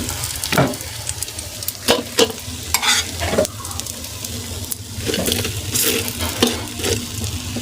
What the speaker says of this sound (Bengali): এই যে এবার আমি বাকি যেগুলো আছে সেগুলো ভেজে নেব একইভাবে।